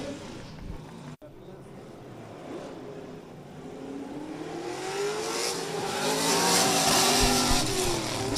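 Drift cars battling at the Oman International Drift Championship, engines revving and rising in pitch with tyre squeal building toward the end, under a commentator's voice.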